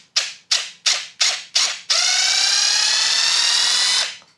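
A Ryobi RID18X-0 cordless impact driver unscrewing in automatic mode: five short rattling hammer bursts at a steady rhythm, then one continuous loud hammering run of about two seconds, close up with no talk.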